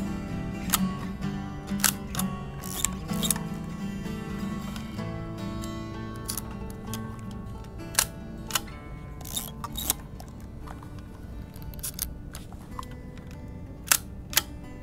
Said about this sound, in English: I cock the shutter, and I'm ready to take the second picture